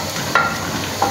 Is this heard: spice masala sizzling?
yes